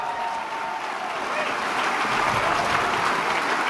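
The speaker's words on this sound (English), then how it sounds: "Give them a round of applause." Crowd applause at a Conservative political rally at the Calgary Stampede, a dense, sustained wash of clapping that swells slightly toward the end, with faint voices mixed in.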